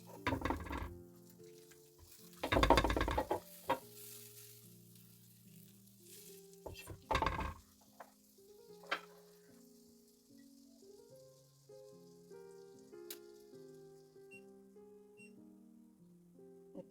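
French toast sizzles and crackles steadily in a buttered pan, heard close with occasional louder scraping and clatter bursts over the continuous frying hiss.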